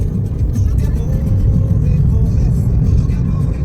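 A car drives through a 6-kilometre mountain tunnel in Mallorca on the way to Sóller, a steady loud engine and road rumble droning throughout without a break.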